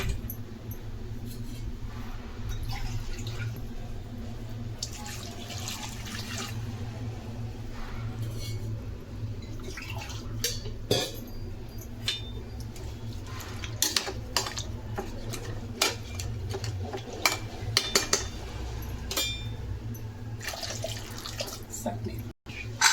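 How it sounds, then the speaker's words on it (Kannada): Water pours steadily but faintly into a pot of temple-style sambar made without onion or garlic, with scattered light clinks and knocks over the continuous flow. "ಇವಾಗ ಇನ್ನೊಂದು ಸ್ವಲ್ಪ ನೀರು ಹಾಕೋಣ."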